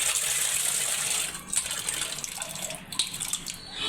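Water runs from a household tap with a steady splashing hiss that briefly falters and resumes, with small clinks and drips, no talking.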